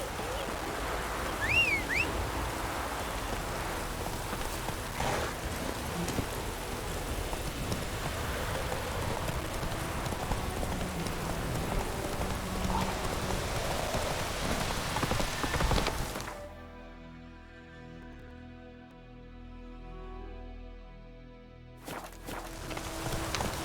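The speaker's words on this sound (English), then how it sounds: "Let it rain." Steady rain falls and patters on surfaces in The Witcher 3: Wild Hunt, a constant wash of drops with hoof-like clopping and footsteps mixed in, before the sound cuts out abruptly near the end.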